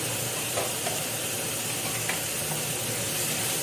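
Carrots seasoned with salt and black pepper sauté in a pan, giving a steady, even sizzle and hiss with faint stirring scrapes, close by and with no talking.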